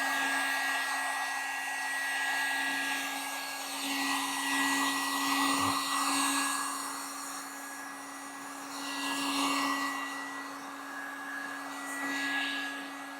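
Cheap Harbor Freight Warrior heat gun blowing steadily close by as it warms the edges of a metal raised garden bed, a constant loud airy fan roar with a steady hum that swells slightly as it moves.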